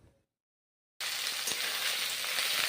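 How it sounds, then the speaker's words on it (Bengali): Tomatoes dropped into hot mustard oil, with a sudden burst of bright frying hiss after a second of silence that keeps sizzling steadily and loudly. "গরম করে তেল ভালো করে এখন টমেটো ভেজে নিচ্ছি"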